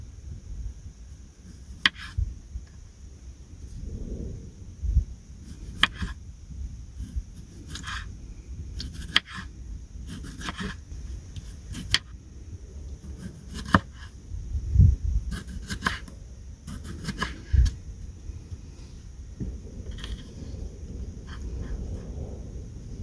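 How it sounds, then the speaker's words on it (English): A knife chops cucumber into halves on a board outdoors at a park lunch stop, giving scattered, fairly soft cutting knocks over a low outdoor rumble, with a dog's occasional noises nearby. "Just cut them in half."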